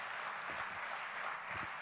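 Audience applause at a customs conference, a dense steady wash of clapping from a large crowd, moderately loud and sustained throughout without speech.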